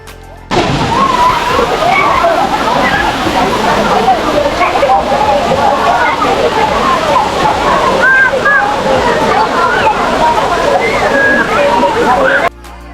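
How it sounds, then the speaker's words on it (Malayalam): A waterfall dropping about 70 feet at the Kochareekkal Caves roars as a loud, constant rush of churning, splashing water. It fills the scene from start to finish and drowns out everything else. "പ്രസിദ്ധമായ ഈ വെള്ളച്ചാട്ടം 70 അടി ഉയരത്തിൽ നിന്നാണ് താഴേക്ക് പതിക്കുന്നത്"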